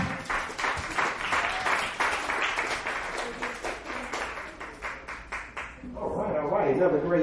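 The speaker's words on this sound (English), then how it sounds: "Another round of applause for Double D, Deanna Dickson" A comedy club crowd at a dive bar claps for a stand-up comedian, lively clapping pulsing for several seconds before fading as a voice speaks.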